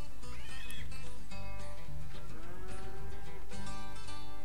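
Cows mooing in the farming game Agricultural Simulator Historical, with several drawn-out low calls over a steady busy backdrop of game sounds, including what may be a horse whinny.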